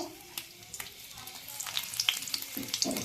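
Dry red chillies broken into pieces and frying in mustard oil, a soft close crackle with scattered small pops and spits, growing busier toward the end.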